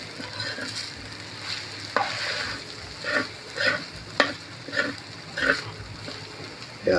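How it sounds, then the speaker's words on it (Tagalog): Leftover rice and sotanghon noodles being stirred in a pan, with a spatula scraping and clattering in short repeated strokes over a soft background sizzle, close by. "At pagkatapos, haluin na natin. Konting halo lang."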